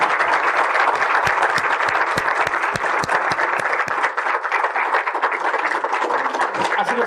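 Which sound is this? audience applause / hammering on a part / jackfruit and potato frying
audience applause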